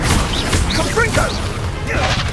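Blasting Confringo spell explosions from Hogwarts Legacy, a series of sharp crashing bursts with whooshes over dense game noise and music, with a voice in the background.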